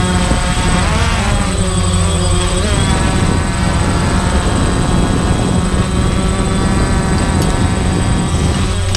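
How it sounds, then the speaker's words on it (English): A helicopter rotor thumps and whines continuously over drone-style footage of a car engine bay being prepped for paint, loud and close, with a steady engine drone running the whole time. "Should I just overlay a helicopter sound?"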